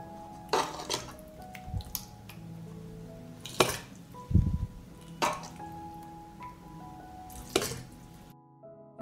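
A spoon scrapes and clinks against a glass jar as meat is added alongside washed rice, several separate sharp knocks spaced a second or so apart, close and alone with no talking.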